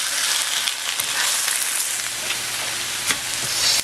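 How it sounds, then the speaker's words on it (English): Tuna and eggs being scrambled and stirred in a hot frying pan, a steady close sizzle with faint scraping, one sharp click near the end. "now I've added the tuna, and I'm just going to mix this all together"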